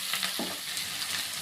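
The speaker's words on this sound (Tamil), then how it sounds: "இப்போ தக்காளி வதங்கிட்டுருக்கு" Tomatoes sautéing in a pan for a potato kurma give off a steady, close broadband sizzle, with a brief stirring scrape partway through.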